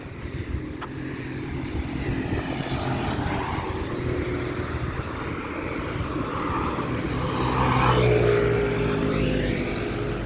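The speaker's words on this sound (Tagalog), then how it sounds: "Pauwi na ako ngayon guys. So ayan, medyo maraming sasakyan." Cars passing on a street at night, a continuous low traffic rumble with engines swelling and fading as vehicles go by, heard from the roadside while walking.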